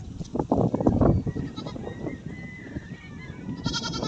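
Several goats bleat close by as they come down from a hillside pasture toward their pen, with a few overlapping calls early on and quieter rustling afterward.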